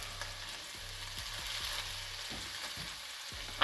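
Fried rice sizzling in a cast iron pan for Chinese BBQ pork fried rice, a steady broadband hiss with a few soft scrapes and stirring knocks, close and continuous, no talking.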